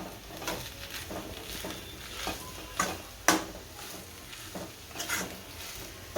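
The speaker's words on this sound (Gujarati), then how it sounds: "હવે વટાણા નાખશું. આને ભેળવી નાખશું હળવું હળવું." A spoon stirs peas into a spiced sandwich filling in a pan, with intermittent soft scraping strokes over a faint sizzle, up close and unaccompanied by speech.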